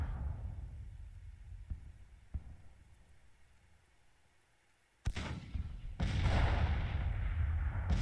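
Civil War artillery counter-battery fire in the strategy game Grand Tactician: a couple of faint distant booms early, then two heavy cannon blasts that leave a rumbling, noisy battlefield roar.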